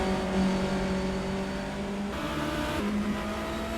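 A racing car in a video game racing series sweeps through the 130R corner at Suzuka, Japan, its engine note holding a steady high drone with a brief dip and shift partway through.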